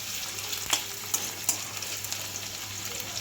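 Onions frying in oil in a pan for a small-fish chorchori, a steady close sizzle with a few brief stirring clinks, no talking.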